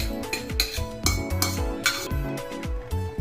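Metal spoon stirring roasted dry fruits into a pot of boiling sheer khurma, giving rapid repeated clinks and scrapes against the pan, close and fairly loud with no voices.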